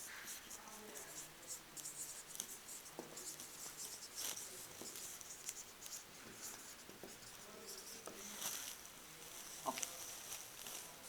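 A teacher draws a picture for a geography class, producing a faint, continuous scratchy scribbling of a marker or pen on a board, with soft background noise and no clear talk.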